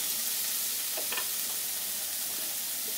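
Green chillies, tomato and cashews with onion frying in a pan, a steady close sizzle and hiss with a few faint stirring clicks, no voices.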